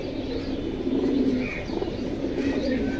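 Caged pigeons, a red-geared pair of racing birds also called army pigeons, coo steadily in low, rolling murmurs that overlap throughout, close by and with no voices.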